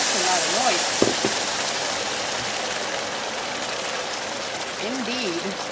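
Saffron-infused water poured into a pot of cooking rice, a steady loud hissing, rushing splash that runs the whole time, with a voice speaking over the start and the end.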